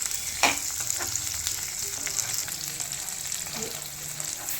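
Brinjal masala sizzles and fries in oil in a steady close hiss, with a few stirring clunks and scrapes in the pan, and no talking.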